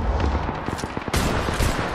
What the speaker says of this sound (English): Nice shots fired and they're hitting me.